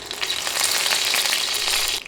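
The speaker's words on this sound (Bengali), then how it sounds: "তেল গরম হয়ে এলে দিচ্ছি 2টা শুকনা মরিচ" Two dried red chillies are dropped into hot soybean oil in a pan and sizzle with a close, crackling hiss that fades out at the end, with no talking.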